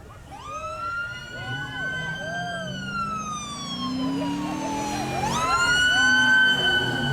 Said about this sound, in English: see if you can hear the siren over the top there